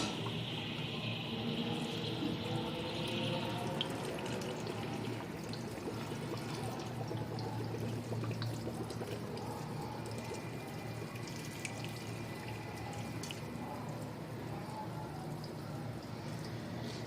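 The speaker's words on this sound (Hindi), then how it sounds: "और इसमें 4 गिलास पानी जाएगा।" Water pours steadily into a cooking pot of spiced beef for a long stretch, a continuous splashing trickle close by, with faint clinks near the end.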